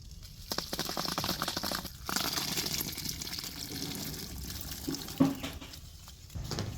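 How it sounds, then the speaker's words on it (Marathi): Water from boiled amla pours and gushes through a strainer in uneven bursts, with light crinkling and metallic clinks close by. "आता हे पाणी गाळून घ्यायचं"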